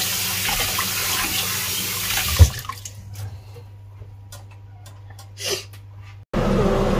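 Tap water pouring loudly into a cooking pot, a rushing hiss that cuts off midway, followed by quieter clinks and a brief return of running water at the end.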